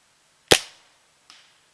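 An Empire Trracer paintball gun fires a First Strike round outdoors: one sharp, loud report with a short decaying tail, followed about 0.8 seconds later by a fainter secondary crack or impact.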